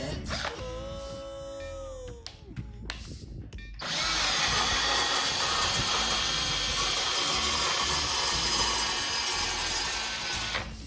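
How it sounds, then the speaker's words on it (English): A cordless drill spins a nut down an all-thread rod while hanging shelves. Short bursts and scraping come first, then a loud continuous whir that runs close and unbroken to the end, with no speech. "But I found if you took the cordless drill and you just put it on there,"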